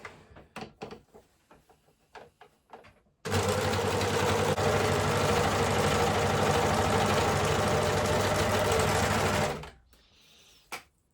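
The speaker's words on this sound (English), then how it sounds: "I'm going to use my overlocker to attach these two pieces together to make one long strip" An overlocker sews two fabric pieces into one long strip, running in one continuous, loud mechanical whir for about six seconds, preceded and followed by a few soft clicks and handling taps.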